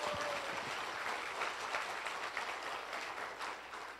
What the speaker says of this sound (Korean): 여러분 자신을 위해서 큰 박수 한번 부탁드리겠습니다